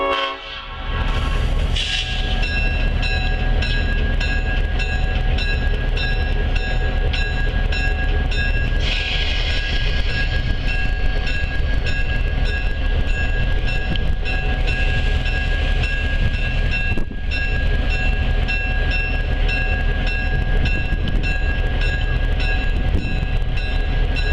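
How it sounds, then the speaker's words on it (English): Steam locomotive 1829 pulls away with a passenger train bound for East Chattanooga, a loud, continuous close-up rumble of engine and rolling cars with a sustained horn or whistle tone and some clanking throughout. "1829 departs for another trip to East Chattanooga."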